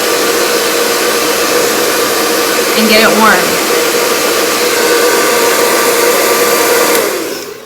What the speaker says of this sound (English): I blow dry it with my blinged out new Dry Bar blow dryer